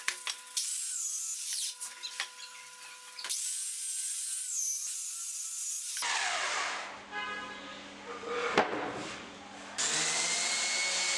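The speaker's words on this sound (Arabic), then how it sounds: "وصنفرهم كويس قبل التجميع" Power sander working wooden furniture panels before assembly, a steady high whine that shifts pitch and loudness over several passes, close and continuous with brief pauses between strokes.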